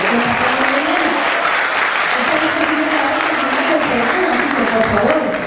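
Concert audience breaks into loud, sustained applause, a dense continuous clatter of many hands with a few voices and cheers mixed in.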